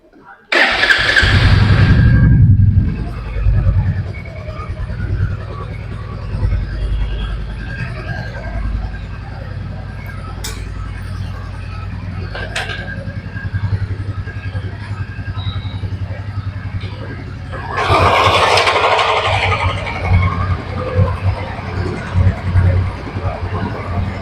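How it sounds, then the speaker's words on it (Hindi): Old and new Royal Enfield Bullet 350 motorcycles started and left idling side by side, a steady low single-cylinder thump running throughout, with louder bursts of noise near the start and again later. "तो दोनों बाइक्स को एक बस ऑन करते हैं और देखते हैं।"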